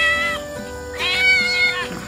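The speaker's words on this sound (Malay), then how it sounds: "Aku disambut mesra oleh kucing-kucing." Cats meowing at a cat house, two close, loud drawn-out meows one after the other.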